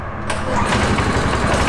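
A car engine idles in a garage workshop with a steady, close, low rumble that holds evenly throughout, sounding smooth and continuous.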